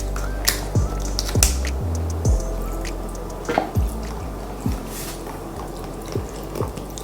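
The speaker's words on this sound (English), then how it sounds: "So now we're gonna add some milk to this." Almond milk pours into a dukunu mix in a home kitchen, sounding as wet dripping and squishy glugs with repeated close splashes at an uneven rhythm, loud and alone.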